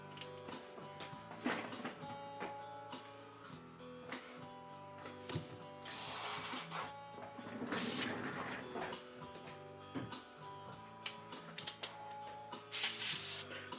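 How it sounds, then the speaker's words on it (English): Bursts of aerosol spray from a can of Testors Dull Cote matte varnish misting over a painted Jubilee X-Men model kit, several hissy blasts of a second or so each over steady background music. "I'm going to give it a coat of varnish"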